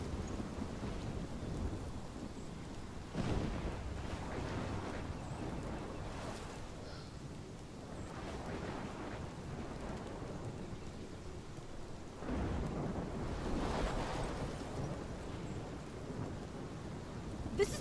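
A thunderstorm in Life is Strange rolls on with steady heavy rain and several deep rumbles of thunder rising and fading, loud and close throughout.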